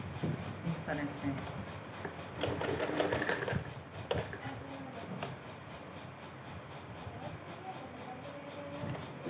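Home sewing machine running thick, wide stitches through fabric in a domestic setting, a close, steady mechanical whirr with a busier burst early on, heard under someone talking.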